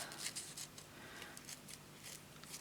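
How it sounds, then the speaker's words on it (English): Scissors snipping through paper and sellotape while trimming pieces for a junk journal, a series of short crisp cuts at close range with soft rustling between them, no talking. "let's just cut that across there, get rid of that bit of sellotape, and then I'm just going to cut up here"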